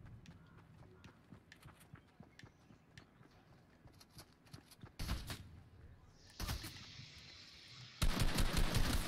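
Gunfire in a multiplayer video game, where scattered shots and quick bursts grow louder and denser toward the end over steady background noise.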